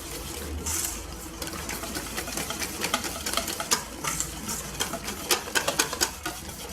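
An electric mixer whirs steadily as it beats strawberry cake batter made with sugar and oil, with a faint clicking texture and brief louder rattles as the beaters strike the bowl.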